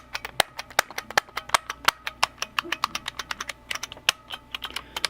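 Keycaps snapped one by one onto an IBM Model F keyboard during a cleaning and rebuild, giving a close, steady series of sharp plastic clicks at a quick, slightly uneven pace with no talking.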